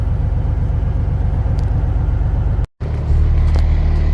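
A race toter truck engine idles steadily at about 750 rpm, a loud, close, even low rumble with a brief cut near the end before it resumes slightly deeper.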